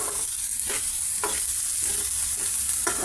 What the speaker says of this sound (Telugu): ఫ్రై అవుతున్నాయండి